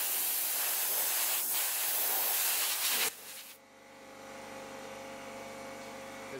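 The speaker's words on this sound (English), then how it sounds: "I just go with the air. I just push down and I try to dry it." An airbrush sprays paint onto an Athearn GP40-2 model locomotive in a steady bright hiss that cuts off abruptly partway, leaving a faint compressor hum behind.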